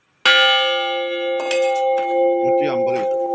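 A large bell-metal church bell, around 150 kilos and cast in a Mannar foundry in Kerala, is struck once. It rings loud and sustained, its long tone carrying on under a voice as he starts talking.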